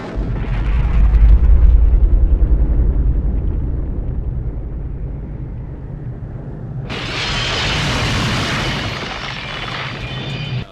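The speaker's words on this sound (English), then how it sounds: "we have an explosion on the far left" A missile explosion in the 1985 film The Return of the Living Dead: a deep, loud boom that rolls and fades, then a second surge of bright, roaring blast noise near the end.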